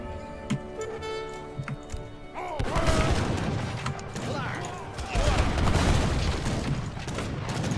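Musket volleys and battle noise from an Age of Empires 3 fight, a dense rumbling clatter of shots and booms that swells midway and continues under a voice talking.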